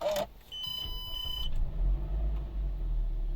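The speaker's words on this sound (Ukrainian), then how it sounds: "Заводиться з кнопки. Заводимо." A 2011 Mazda 6 with a 2.0 petrol engine and automatic gearbox gives a short electronic beep and chime, then a low rumble as the push-button start brings the engine to a quiet idle.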